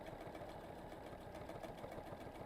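A sewing machine free-motion quilting close around the edge of an appliqué leaf hums faintly and steadily, its fast, even needle rhythm running throughout.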